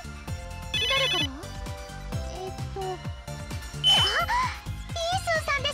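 An N-Gear phone ringtone chimes in a video game, with bright repeating tones and short high trills set against busy game music.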